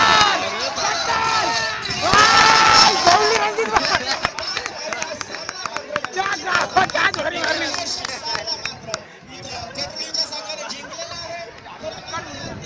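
Spectators roar and shout at a tense village cricket match between Koproli and Pirkon in Uran, a loud, continuous crowd din with a commentator talking over it.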